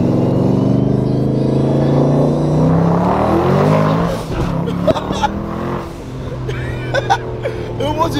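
A twin turbo Mustang pulls hard in first gear, its engine note climbing loudly for a few seconds before cutting back, followed by excited voices and scattered knocks.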